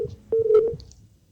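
Telephone keypad dialing tones, a quick series of loud, close electronic beeps heard alone.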